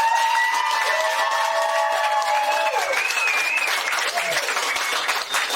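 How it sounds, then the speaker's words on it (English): A studio audience applauds and cheers for Florida Governor Ron DeSantis, a steady crowd roar of clapping with a few whoops and brief whistling tones over it. "A round of applause for the governor, everybody."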